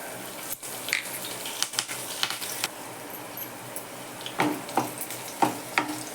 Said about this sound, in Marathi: मिरची घालते चिरलेली